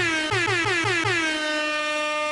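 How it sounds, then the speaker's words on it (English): A loud air horn blasts in rapid repeated pulses, then holds one long sustained blare to the end. "we got some air horns in here"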